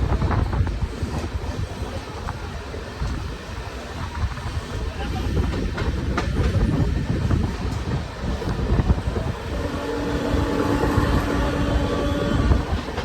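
A passenger MEMU train on the Delhi to Panipat line picks up speed after leaving the station, giving a continuous loud rumble with wind buffeting and rattling wheels that builds steadily over the whole stretch.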